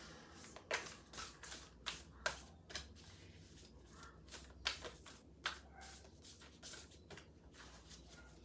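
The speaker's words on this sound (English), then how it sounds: "So I will shuffle." Cards are shuffled close and softly, in repeated short riffling bursts with brief pauses between them, no talking.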